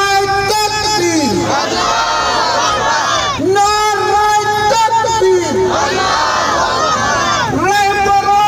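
Rally crowd at a Kashmir Day solidarity gathering roars a Takbir chant in unison, loud and close, with repeated swelling shouts rising and falling in waves across the whole stretch.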